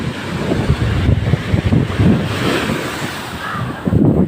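Ocean waves churn during a typhoon, a loud, continuous roar of surf mixed with heavy wind buffeting the microphone, swelling and easing without pause.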